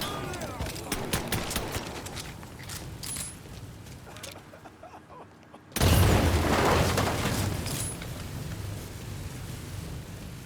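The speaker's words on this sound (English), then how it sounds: "Grenade, get to cover." Grenade explosion amid gunfire in Mafia 3, with rapid shots and crackling combat noise, a brief lull, then a sudden loud blast that stays roaring and dense for several seconds.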